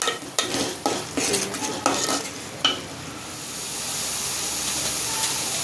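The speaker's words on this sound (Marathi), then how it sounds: "थोडं आपण फ्राय करतोय थोडस तेल वरती आलं की त्याच्यामध्ये मसाले टाकायचे" Masala spices frying in hot oil for a village-style egg curry, a steady sizzle with sharp stirring scrapes and clinks of a utensil against the pan early on, then a continuous hiss; no one talks.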